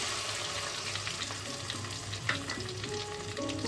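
Whole spices for tempering fry in hot oil with a dense, continuous crackling sizzle, close up and steady, with a light stir partway through.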